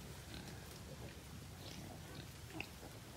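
Piglets in a farm pig pen give faint, scattered grunts and oinks over a constant low background hum at moderate distance.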